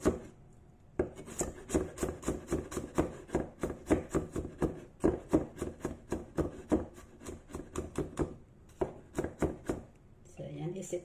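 Knife chopping ginger on a board in a home kitchen, a quick steady rhythm of crisp close taps running the whole time, with brief pauses between runs and no voices.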